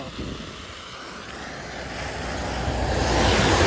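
A bus approaches along a rain-flooded road in light drizzle, its engine rumble and tyre wash swelling steadily louder from far to near, with no talking.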